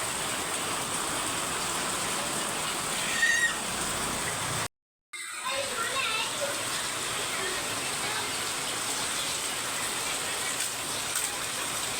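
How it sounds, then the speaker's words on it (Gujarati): Steady rain hisses evenly and continuously, briefly cutting out for a moment before the downpour resumes at the same level. "વરસાદ આવે છે"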